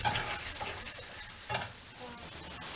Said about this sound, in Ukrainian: Ну і заразом сюди я вправлю перчик, нехай заражу воно все. Протушкується. Перемішую.